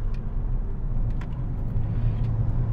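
An older Mercedes-AMG A45 hatchback driving at speed, its engine a steady low rumble with road and wind noise running continuously beneath, no voices.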